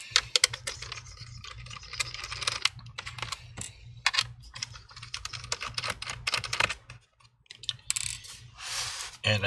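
Hidden screws being removed from an HP laptop with a small screwdriver: dense, rapid clicks and ticks come close and continuous, with brief pauses between bursts of activity.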